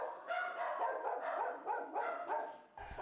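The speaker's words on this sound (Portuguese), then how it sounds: "os cachorros também fazem muito barulho." Several dogs kept at a home in Cobilândia, Vila Velha bark in a quick repeated series of loud, close yaps, about half a dozen sharp barks in a row with no talk.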